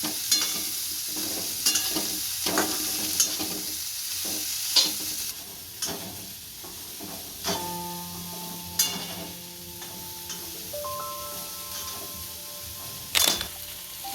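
Spiny gourd (kantola) cooks in a pan, with irregular scraping stirs of a spoon and soft clinks over a faint, steady sizzle, close and fairly quiet, no one speaking.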